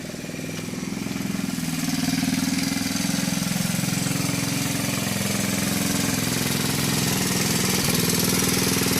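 A Honda XL 125S motorcycle engine runs steadily and loudly up close, a rough continuous rumble with rattling mechanical noise throughout, no voices.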